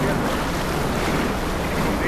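River rapids churn around a raft in Bulgaria, a dense, steady roar of rushing white water and wind buffeting the microphone, loud and continuous with voices faintly mixed in.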